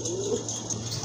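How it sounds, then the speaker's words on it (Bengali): A big male pigeon gives a short, close, low coo over a faint hum of background noise. "বিগ সাইজের একটা নর কবুতর দেখেন, সম্পূর্ণ রানিং"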